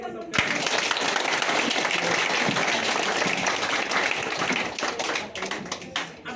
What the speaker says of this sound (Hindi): तो फिर जोरदार ताली हो